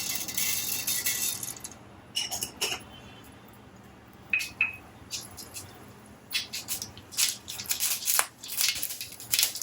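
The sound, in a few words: mustard seeds spluttering in hot coconut oil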